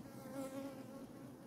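Dense buzzing of many honey bees at an open, overfilled hive with drone comb, a steady close hum holding without pause.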